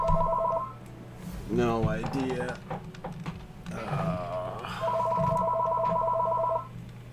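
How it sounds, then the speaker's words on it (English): A telephone rings in two electronic trilling bursts, one brief at the start and a longer one later, with people talking in between. "I need somebody to get that phone."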